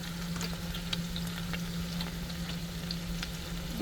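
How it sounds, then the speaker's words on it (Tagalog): Sardines frying in olive oil with onion and garlic, giving a steady, dense sizzle with faint crackles that holds evenly throughout, close and alone. "Gisahin lang natin."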